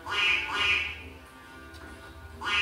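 A white goose quacks in a story sound effect, giving three loud, nasal calls: two close together at the start and one more after a brief lull.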